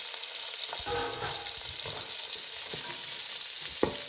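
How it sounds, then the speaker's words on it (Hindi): Two large onions frying in ghee in a pan for a masala okra dish: a dense, bright close-up sizzle with scattered stirring scrapes and a sharp clink near the end, no talking. "इसी घी में हम डाल देंगे प्याज 2 बड़े साइज़ के, और प्याज को कर लेंगे फ्राई"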